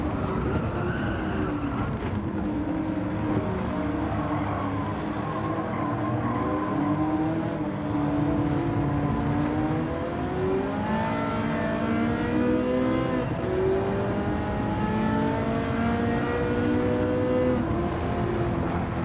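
In a racing video game, a Ferrari F40 engine revs hard and shifts up repeatedly, its pitch climbing in waves, with tire squeal at points, loud and continuous throughout.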